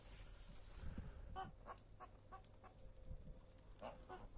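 Geese foraging for grass under snow give soft, scattered honks and clucking calls outdoors, some close and some farther off, with a low background rumble.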